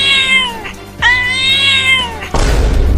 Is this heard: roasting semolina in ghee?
no